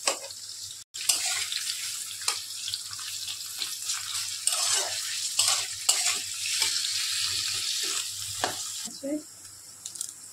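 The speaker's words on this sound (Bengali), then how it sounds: "এইটা তেলের মধ্যে দিয়ে দেবো। ভালো করে নাড়াচাড়া করবো, লাল লাল করে ভাজা করবো পেঁয়াজটাকে।" Chopped onions and slit green chillies fry in oil while being stirred, a steady broadband sizzle with repeated scraping stir strokes throughout and a brief dropout near the start.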